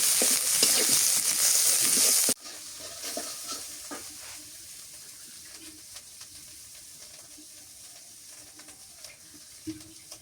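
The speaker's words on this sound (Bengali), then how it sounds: "মশলা কষানো হয়ে গেছে" Loud, bright sizzling of onion-garlic paste with turmeric and chili powder frying in a hot pan, which drops off abruptly and gives way to quieter crackling and occasional stirring scrapes.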